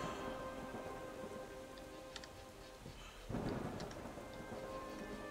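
Steady rain falls in the video game Frozenheim, with rumbling thunder building and a louder roll breaking past the midpoint, all without speech.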